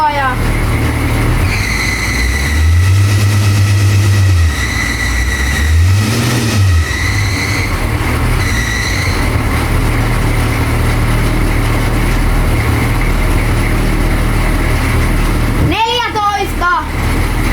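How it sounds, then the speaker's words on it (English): A Chevy Van G20 with a 6.2 diesel engine idles loudly up close and is revved a couple of times, the engine note rising and falling with a whining belt noise, and a voice speaks briefly near the end. "When I push the throttle, you can hear the noise coming out of the belt."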